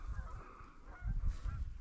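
Canada geese honk repeatedly at a moderate distance in an open marsh during a waterfowl hunt, a brief burst of overlapping calls over low wind rumble.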